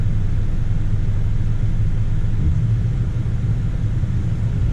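A 2020 Mercedes-Benz GLE 350 SUV pulls away from a traffic light, heard from inside as a steady, smooth low engine and road rumble with no voices.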